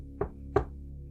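A pizza delivery man knocks on a door in a horror story, two sharp, distinct raps about a third of a second apart, close and clear against a quiet background.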